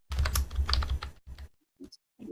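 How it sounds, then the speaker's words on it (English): Loud computer keyboard typing with quick, clattering bursts of keystrokes at close range, pausing briefly before a few scattered taps. "I don't know why my keyboard's so loud"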